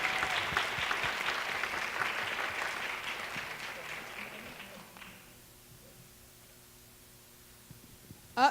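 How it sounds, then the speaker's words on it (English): Audience applause at a high school Black History oratorical competition, a loud sustained burst of clapping from a crowd that fades out after about five seconds into near silence. "Give him a round of applause"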